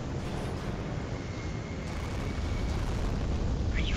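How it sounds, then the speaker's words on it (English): A heavy, rumbling video game explosion roars steadily, a broad low blast sound sustained for several seconds with no voices. "You got killed by the explosion."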